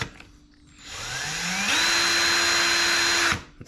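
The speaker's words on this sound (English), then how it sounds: "it spins your drill chuck a lot faster" A Ryobi cordless hammer drill spins its chuck: the motor whine ramps up in pitch, holds a loud, steady high speed for nearly two seconds, then cuts off abruptly with a brief wind-down click.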